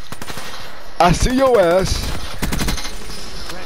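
In a video game, rapid gunfire rattles in quick, evenly spaced bursts, loud and close, while someone talks over the shooting partway through.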